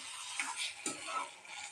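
A spoon stirs chicken pepper gravy with raw banana in a pan, making soft, faint scraping and light ticking sounds over a steady low sizzle.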